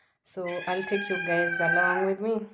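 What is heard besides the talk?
pet cat meowing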